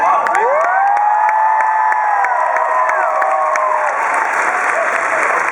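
A large convention panel audience at Emerald City Comicon cheers and applauds loudly, with dense clapping throughout, scattered whoops and high shouts rising over the noise.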